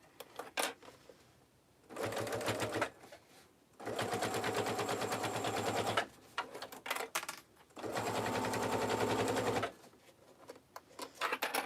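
A sewing machine stitches a tote bag at a 3.5 mm stitch length, running in three long, steady, rattling bursts separated by short pauses, loud and close with no talk.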